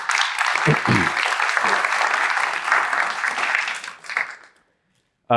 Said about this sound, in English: if we could just maybe a quick round of applause for them